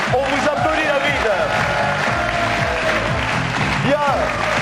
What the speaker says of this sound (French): On vous applaudit, David.